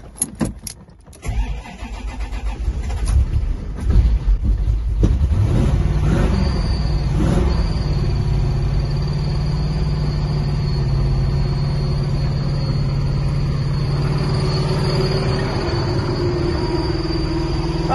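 A Corvette C4 ZR-1 barn-find engine cranks briefly with clicks, then catches and settles into a loud, steady idle with a rising whistle and slight revving, close and continuous with no talk.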